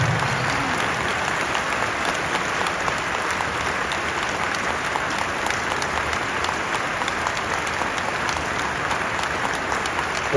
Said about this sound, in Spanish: Felicitaciones, un aplauso pues para ustedes.